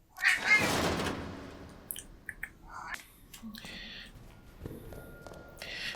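A domestic cat makes soft, faint meows and fussing sounds in a quiet room, with short scattered noises after an opening burst of breathy sound.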